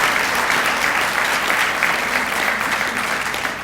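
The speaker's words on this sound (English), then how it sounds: "Give yourselves a big round of applause for what you do for all these kids every single day" Steady, dense applause from a large audience at a gymnastics Hall of Fame ceremony, a continuous even roar of many hands clapping throughout with no break.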